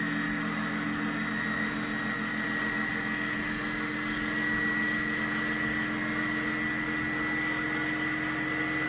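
A small DC motor spinning a flywheel in an energy storage demo gives a steady, continuous mechanical whine with a low hum beneath it, holding even and constant throughout with no talking.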